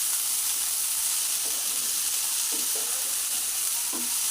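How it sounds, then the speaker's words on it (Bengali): Bottle gourd peel and potatoes fry together in a pan, giving a steady, close sizzle with a few soft stirring scrapes and taps rising over the hiss. "দিয়ে ভালো করে আলুর সাথে লাউয়ের খোলাটা ভেজে নিতে হবে"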